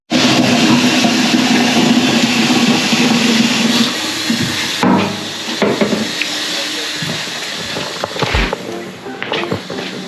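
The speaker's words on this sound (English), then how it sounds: "My very manly tiny watering can." A small watering can pours a steady stream of water onto a garden railway bed for several seconds; then the flow stops and a few soft knocks and splashes follow.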